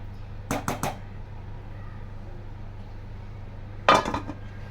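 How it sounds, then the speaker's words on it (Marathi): A metal lid is set onto a pot of beetroot pulao, giving a quick cluster of clanks near the start and a second, louder clatter a few seconds later, with quiet kitchen hum between. "आता असा चला एक 5 मिनटं झाकून ठेवते"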